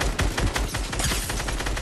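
Rapid gunfire in the video game Fortnite, dense overlapping bursts of shots firing almost continuously and loud throughout, with no talking over them.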